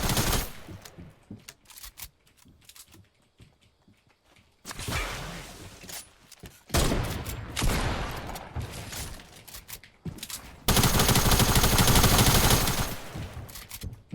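Bursts of automatic and single gunshots crackle in a multiplayer shooter match, in uneven clusters separated by quieter gaps, with a dense sustained volley near the end.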